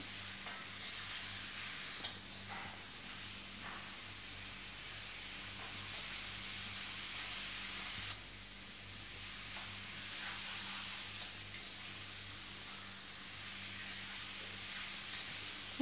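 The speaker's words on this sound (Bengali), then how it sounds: "টোটাল আমি চার মিনিট চিকেনটাকে ফ্রাই করছি" Chicken frying in a pan makes a quiet, even sizzle and hiss that runs unbroken, with a few soft pops and a brief stir midway.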